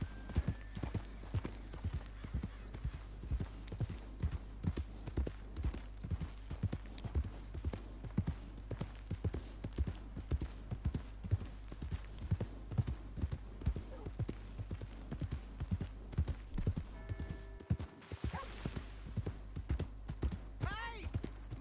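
Horse hooves clip-clop steadily through a Red Dead Redemption 2 game scene, a continuous rhythmic trot close up, with voices and background music underneath and a brief pause near the end.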